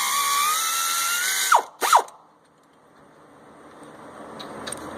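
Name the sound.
ratchet loosening a bolt on a 2005 Navigator engine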